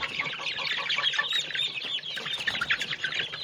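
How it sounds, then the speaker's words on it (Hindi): One-month-old Australorp chicks chirping, a dense chorus of high, overlapping peeps close by, busy and continuous throughout. "ये 1 माह के चिक्स हैं, ऑस्ट्रलोप हैं जी ये"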